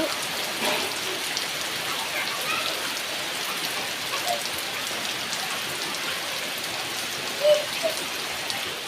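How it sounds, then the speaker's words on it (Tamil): Heavy, continuous rain falls nonstop on a steady, close hiss that fills the whole stretch, with a brief louder splash near the end and no talk. "விடாத மழையாக வந்து பெஞ்சிட்டு இருக்கு"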